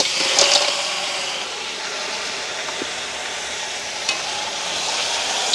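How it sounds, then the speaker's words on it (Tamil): Washed crab pieces fry with onions and green chillies while being stirred in a village kitchen, a steady sizzle with a few light scrapes and clinks, no voices. "உடைச்செல்லாம் கழுவி வச்சுருக்கிற நண்டை நாங்கள் சேர்த்துக்கொள்வோம்"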